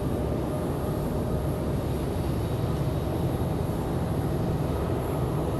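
Engines of an Airbus A220 spool up at Raleigh-Durham International Airport, a sustained, broad whooshing roar holding steady and fairly loud, with a faint high whine above it and no voices.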